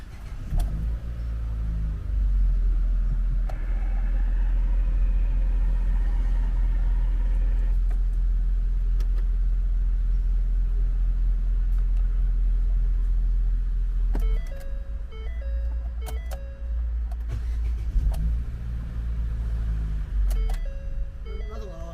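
A Ford car's engine runs steadily after a starter motor replacement, a loud continuous low hum throughout with a brief change partway through; people talk over it.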